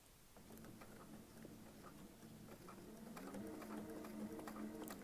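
A sewing machine stitching quilt pieces runs steadily with a fast, even mechanical patter, quiet and close, picking up slightly in intensity partway through.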